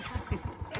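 A Royal Enfield Bullet motorcycle engine thumps in a steady, low, evenly spaced beat, faint and heard from a short distance with no talk.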